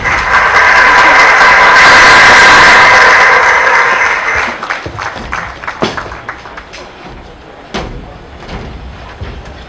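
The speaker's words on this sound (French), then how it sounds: "Vos applaudissements, s'il vous plaît, pour les mannequins." An audience applauds fashion models at an albinism awareness event, loud sustained clapping that fades after about four seconds into scattered knocks and shuffling.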